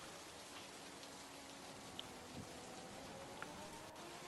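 Steady, faint rainfall in an F1 racing video game at the Australian Grand Prix, a soft even hiss lasting throughout with a couple of faint ticks and no talk.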